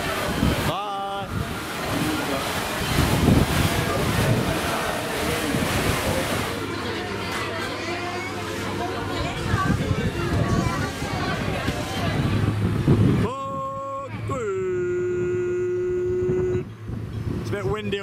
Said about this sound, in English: It's a bit windy up here on the top deck